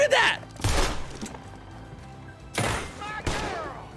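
Gunfire in the Red Dead video game, several loud, sharp shot bursts with echoing tails, spaced unevenly through the scene.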